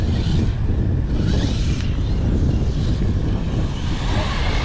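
Strong wind buffeting outdoors at a radio-controlled car test session, a loud, continuous low roar and rumble across the microphone with gusty swells and no clear speech.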